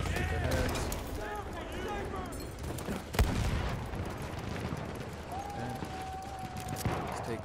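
Model 10 Slug shotgun fire in the video game Battlefield 1, a sharp single blast standing out mid-stretch amid game battle noise, with someone talking over it.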